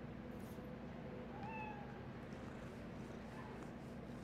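A cat in Spider-Man Miles Morales gives a soft, brief meow, faint under a steady hum of city ambience and game sound.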